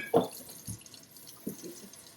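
Water for soaking paint brushes drips and splashes in a few soft, separate plops, one louder splash followed by quieter drips, close and intimate in a quiet room.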